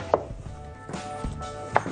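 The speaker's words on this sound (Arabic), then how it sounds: "هبتدي اقطع بقى ايه البصل جوليان مثلا" A knife slices an onion into julienne strips on a board, giving a few quiet, crisp taps spaced apart over a short stretch.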